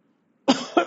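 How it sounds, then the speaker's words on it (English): A single person's forced cough, two sharp close bursts in under a second, heard alone in a quiet room. "Everybody should try and cough and see what you're doing."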